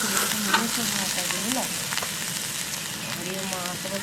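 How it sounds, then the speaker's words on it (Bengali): Kabuli chickpeas fry in a pan with a steady, close, dense sizzle that lasts throughout, while a voice is faintly heard in the background. "দিদির কাবলি ছোলা ভাজা হয়ে গেছে"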